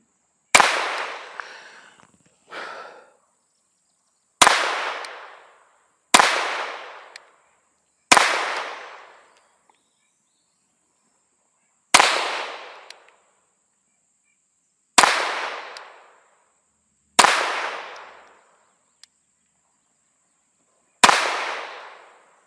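Ruger 22/45 Lite pistol fired with an accurizing trigger kit, about ten sharp, loud cracks spaced unevenly a second or more apart, each trailing a short ringing decay, with no talk between shots.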